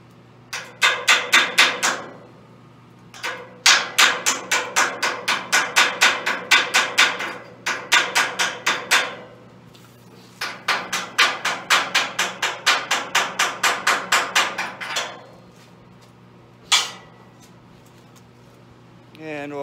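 Rapid bursts of hammer blows knocking welding slag off a steel hay rack being reinforced, struck in quick rhythmic runs of dozens of strikes separated by short pauses, close and loud over a low steady hum.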